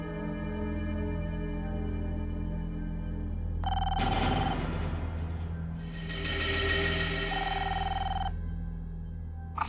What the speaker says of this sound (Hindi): इतनी रात गई, किसका फोन है?